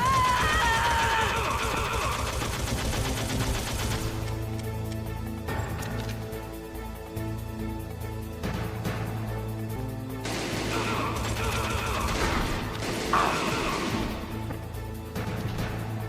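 Gunfire in the Metal Gear Solid video game, scattered shots and crashes over a constant background of game music and effects, with no clear speech.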